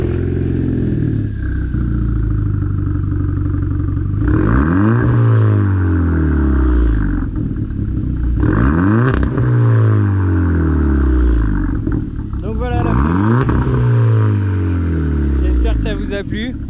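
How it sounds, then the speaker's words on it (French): A warm Volkswagen Polo GTI 1.4 TSI 180 hp engine idles, then revs sharply in several quick bursts, each climbing and falling back to idle, loud and close, with a voice talking over it. "va démarrer la voiture et elle va vous faire quelques petites accélérations."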